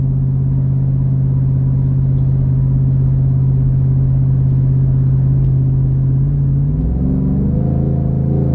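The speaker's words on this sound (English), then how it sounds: "You hear this truck?" A Ford Raptor pickup's engine and exhaust rumble loudly and steadily while the truck drives along, then the pitch shifts near the end as the gears change.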